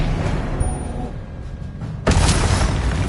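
A Confringo blasting spell explodes in Hogwarts Legacy, a sudden loud broadband burst hitting about two-thirds of the way through over a dense bed of game combat noise, with no voices.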